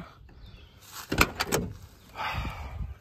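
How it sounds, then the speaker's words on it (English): An old sports car's door, long unused with moss growing on it, is opened and shut nearby: a click and a firm thunk, then a softer latch sound, with no talking. "That door sound still so, sounds mint."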